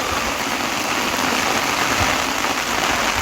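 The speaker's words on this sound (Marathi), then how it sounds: "पाऊस जोरात आहे तुम्हाला आवाज कदाचित माझा येत असेल" Heavy rain pours steadily, a dense, even hiss of water hitting surfaces with no pauses.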